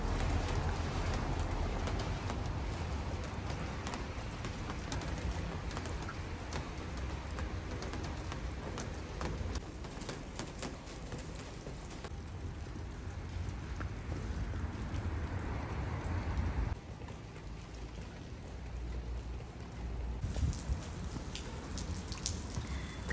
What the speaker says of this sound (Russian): дождь со снегом идет.